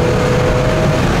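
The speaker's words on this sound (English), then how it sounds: "I love the sound of the exhaust." Steady low rumble from the exhaust of a 1971 Oldsmobile Cutlass convertible cruising on the road, a brief, continuous drone with a faint humming tone running through it.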